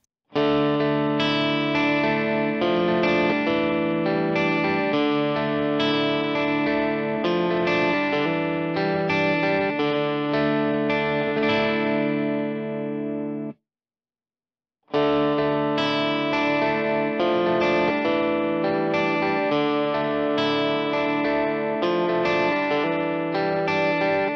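Distorted electric guitar through an AIDA-X AI amp model on a MOD Dwarf, playing a sustained chordal riff with a saturated tone, stopping briefly for about a second before the same passage resumes.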